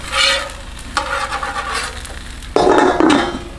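Vegetables cooking on a Blackstone griddle during a breakfast of bacon, omelette and hashbrowns: steady close sizzling with scraping and clinking of a metal spatula, growing louder near the end, with no talking.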